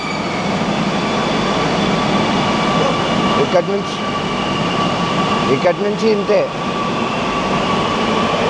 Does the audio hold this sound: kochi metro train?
yes